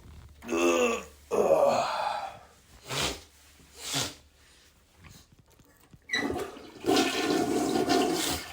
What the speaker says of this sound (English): That's a flush.